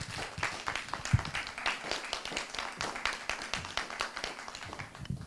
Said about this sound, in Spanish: les pido por favor que les externemos un agradecimiento a través de un fuerte aplauso a nuestros